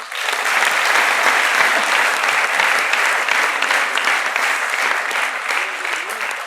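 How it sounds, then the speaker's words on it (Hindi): Studio audience at a television comedy show breaks into loud, dense, steady applause that holds evenly from start to finish with no talk over it. "इस पे तो ताली बजना चाहिए।"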